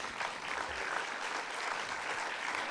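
A crowd claps steadily, a dense, even patter of many hands applauding throughout with no voices.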